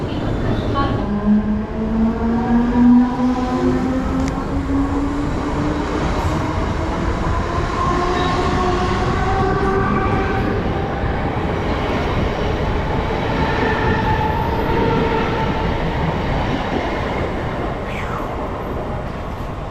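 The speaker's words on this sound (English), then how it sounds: "That was a long train. I think there was probably 25 cars." A long train of about 25 cars rumbles steadily past near a station, with continuous rolling wheel noise, faint metallic squeals and rhythmic clatter that hardly changes for the whole stretch.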